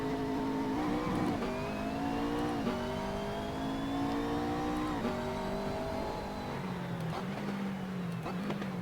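Simulated GT race car on the Nürburgring Nordschleife in Assetto Corsa, engine wailing through steady revs with shifts and brief throttle lifts, loud and close from start to finish with no talk.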